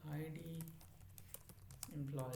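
Brisk keyboard typing on a computer, a quick run of close clicks between stretches of someone talking at the start and end.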